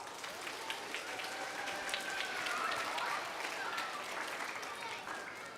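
A crowd applauds steadily throughout, a dense wash of clapping that swells slightly midway, with some voices mixed in.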